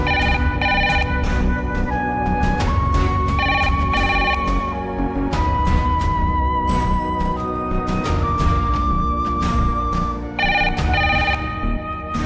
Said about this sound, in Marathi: मी आत्ता ताईला फोन करतोय.